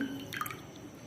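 Lemon juice drips and splashes into cold water as a lemon is squeezed, a brief burst of wet droplet sounds, close by and fairly quiet.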